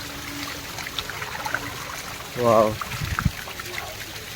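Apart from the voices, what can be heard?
flowing stream water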